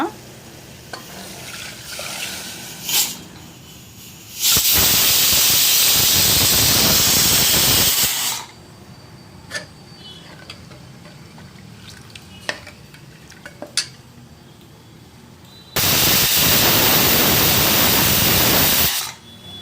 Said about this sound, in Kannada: ಎರಡು ವಿಸಲ್ ಕೂಗಿದೆ